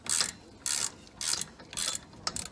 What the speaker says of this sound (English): Here's your ratchet just to tighten that back down. With this size 15 socket again.